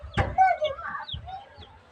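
A chicken clucks close by, a few throaty squawks and clucks in quick succession, with a voice murmuring briefly alongside.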